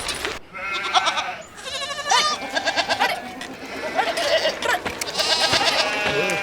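A flock of sheep blocking a road bleat repeatedly and loudly, many overlapping calls close by in a steady, busy chorus.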